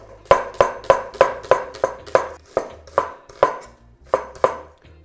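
Vegetables for pakoras being chopped with a knife on a board, about fourteen crisp, evenly spaced thuds in a steady rhythm, close and fairly loud with no talking.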